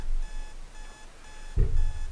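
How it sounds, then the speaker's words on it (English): An alarm clock in the Doki Doki Vigilante video game rings with a repeating electronic beep pattern in short bursts, fairly quiet, broken by a single soft thud near the end. "My alarm clock wakes me up with a jump."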